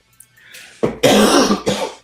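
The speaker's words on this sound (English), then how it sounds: "got that cough" A person coughs a few times in quick, harsh bursts, close and fairly loud, after a short breathy throat sound.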